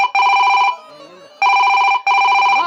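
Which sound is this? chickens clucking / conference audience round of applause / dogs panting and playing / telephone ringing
telephone ringing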